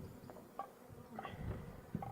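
Honeybees at an open beehive on a farm, a faint low buzzing drone with a few brief higher chirps rising above it, steady and fairly distant.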